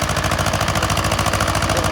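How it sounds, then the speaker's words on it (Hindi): An Escort 345 tractor engine works hard pulling through a field, giving a steady, loud, rapidly pulsing diesel chug that holds constant throughout with no voices. "ट्रैक्टर बढ़िया काम कर रहा है"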